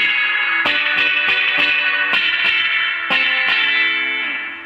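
An electric guitar plays through a BOSS FRV-1 Fender Reverb pedal, its spring reverb adding a splashy, shimmering tail to each picked note, with repeated attacks ringing out loud and close before a gentle fade.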